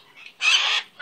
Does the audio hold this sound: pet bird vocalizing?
yes